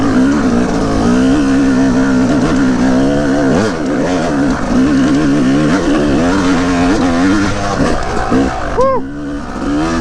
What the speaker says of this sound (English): The new jetting has the bike running so minty though.